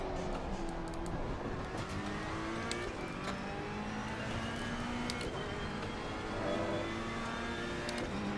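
Reiter Engineering R-EX GT3 race car engine flat out through a corner at Imola in Assetto Corsa Competizione, a continuous high-revving drone with shifting harmonics and occasional sharp clicks, loud and close throughout.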